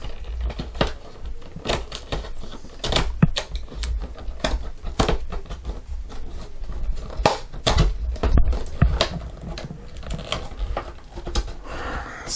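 Close, dry clicking and scraping as a blade cuts all the way around a DC Universe Classics Wave 8 Hawkgirl action figure box, an irregular run of sharp ticks and crackles with no talking.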